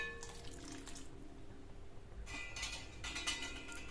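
Water poured into a pan of matar paneer gravy, a soft, quiet splashing and trickling with faint clinks, close and without talk.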